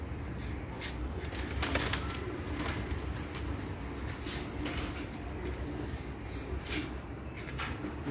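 Low, soft coos of Red Bull pigeons on a Lahore rooftop murmur nearby among scattered clicks and shuffling, with a steady background hum.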